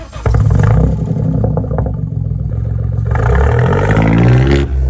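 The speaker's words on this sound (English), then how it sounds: "This is the most insane exhaust on a 3-cylinder I've ever heard." Loud, raspy straight-pipe exhaust of a BMW 218i 3-cylinder roaring and revving up and down, close and continuous, with a harsh crackling edge.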